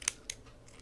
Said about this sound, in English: So now we can just from this side cut the string.